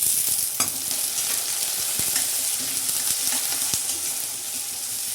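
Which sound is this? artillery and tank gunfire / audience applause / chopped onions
chopped onions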